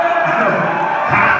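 A packed concert crowd at a hip-hop show in Atlanta cheers and roars in a steady wash, rising again near the end, with voices mixed into the noise.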